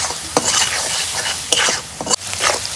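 Spices with salt and chili powder being stirred and sautéed in a hot pan, a steady sizzle broken by several sharp scraping strokes of the spoon, close and loud with no talking.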